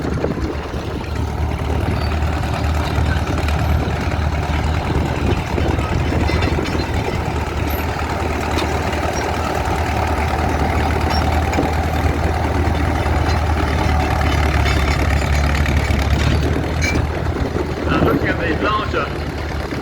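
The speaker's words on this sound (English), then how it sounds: "Tractor here, a larger Caterpillar." A large Caterpillar tractor engine idles with a steady, low diesel rumble throughout at an old-time rally, with faint voices in the background.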